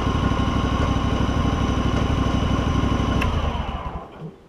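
John Deere LX188 lawn tractor engine, just given a fuel system overhaul, running at a steady close idle with an even putter before it cuts off and fades to quiet at the end.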